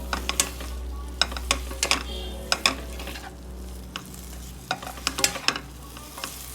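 Manchurian balls being stirred in a pan, with repeated close scraping and clacking of a spoon against the metal over a low hum and light sizzle.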